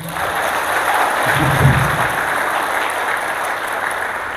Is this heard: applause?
yes